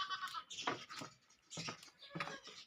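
Goats on a farm in rural Thailand bleating in short, wavering calls, several bursts in quick succession, close by and fairly quiet with small scuffling sounds between them.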